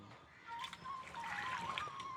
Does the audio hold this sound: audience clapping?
no